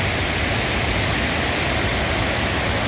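The Ipanema river at Santana do Ipanema, Alagoas, running high with lots of water, a loud, steady broadband rush of flowing water with no voices.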